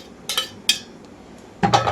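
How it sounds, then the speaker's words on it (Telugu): Fried onions are scooped into a mixer jar, with a metal spoon clinking and scraping against the pan and jar in three short bursts separated by quiet pauses. "వేయించుకున్న ఉల్లిపాయలు మొత్తం కూడా మిక్సీ జార్లోకి తీసేస్తున్నాను"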